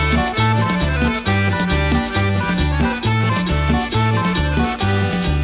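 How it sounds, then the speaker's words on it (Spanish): Loud, full accordion music with a steady oom-pah bass pattern and bright sustained chords, played continuously without any talking. "Y otra vez el acordeón."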